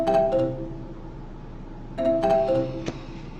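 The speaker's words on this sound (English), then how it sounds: "Nothing more frustrating than hearing the phone ring and know that you can't answer it." A phone rings twice with a chiming electronic tone, each ring a short bright burst of stacked notes, fairly close against a quiet background.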